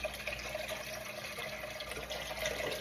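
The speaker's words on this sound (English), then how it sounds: "We have some purified water in here. So I'm gonna pour this in the pot." Purified water pours steadily into a soup pot, a continuous splashing, gurgling stream that stays close and fairly loud throughout, with no talking.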